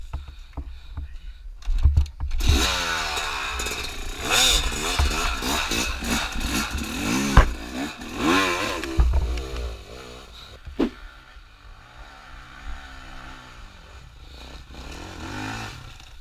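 A hard enduro motorcycle in the Auvergne hills revs repeatedly in rising and falling bursts, close and loud at first and then easing to a lower idle.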